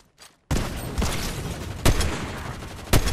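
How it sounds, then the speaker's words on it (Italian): Gunfire from other players in the Fortnite video game, a rapid burst sustained for about three seconds with sharper single shots standing out at intervals, fairly loud and with no talking. "stanno sparando di là"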